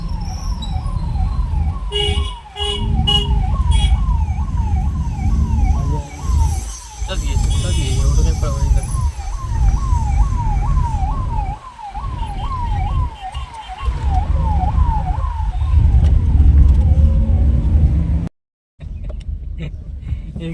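A passing ambulance's siren wails in a steady rising-and-falling cycle, loud and close for most of the stretch before cutting out near the end, with voices and car noise underneath.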